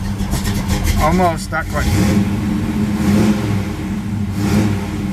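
A Chevrolet Camaro engine idles shortly after a cold start, running steadily with a low, slightly uneven rumble throughout while someone talks over it.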